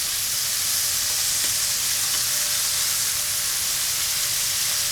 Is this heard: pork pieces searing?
yes